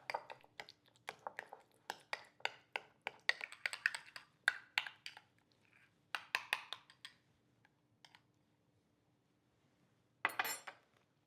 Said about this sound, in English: start with about a tablespoon of mayo and a tablespoon of cranberry sauce and mix those together